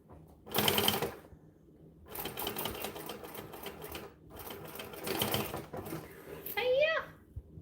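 A sewing machine stitches a bag in bursts of rapid mechanical chatter separated by short pauses, close and fairly loud, with a person's voice briefly heard near the end.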